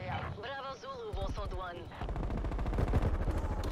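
Rapid automatic gunfire from a light machine gun in a multiplayer video game rattles in dense bursts, the fire getting heavier toward the end while a player talks over the first part.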